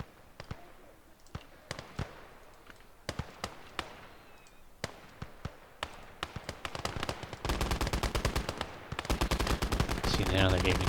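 Machine gun and rifle fire in the video game Conquest Enhanced: sharp scattered shots that build into dense rapid bursts, loud and continuous toward the end.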